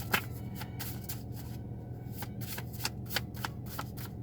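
Cards being shuffled up close, a series of quick riffling bursts at an uneven rhythm, fairly quiet with no talking.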